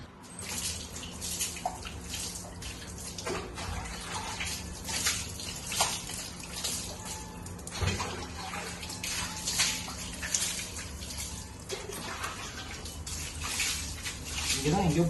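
Water steadily sprays and splashes while a Kawasaki ZX-10R with a damaged, coolant-leaking radiator is washed in a garage, making a continuous close hiss and patter with occasional drips.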